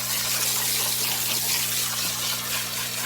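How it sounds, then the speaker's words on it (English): Steady rushing water from a garden hose sprays continuously outdoors while black walnuts are being stomped to break their husks, with a constant low hum running underneath. "I got my water hose right here"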